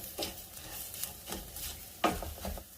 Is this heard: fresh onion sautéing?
yes